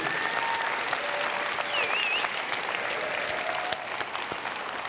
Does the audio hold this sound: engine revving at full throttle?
no